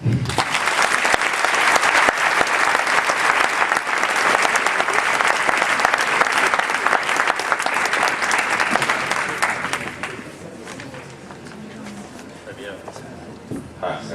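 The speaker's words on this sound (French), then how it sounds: "applaudissons-le, s'il vous plaît" Loud, dense audience applause fills a hall after a speaker is introduced at a talk on climate negotiations by economist Jean Tirole, holding steady for about ten seconds before fading to a quieter room murmur.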